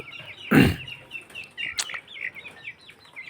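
Tiger chickens on a farm cluck and call close by, with a loud burst near the start, another sharp call partway through and scattered chirps continuing underneath.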